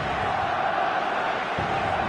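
A dense stadium crowd in a football video game roars and cheers continuously after a goal, a loud, sustained wall of noise with no distinct voices standing out.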